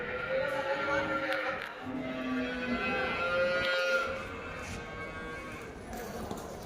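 Buffaloes, including local native buffalo, and cattle at the Vaniyambadi cattle market give drawn-out lowing moos over a steady outdoor bustle, with people talking in the background.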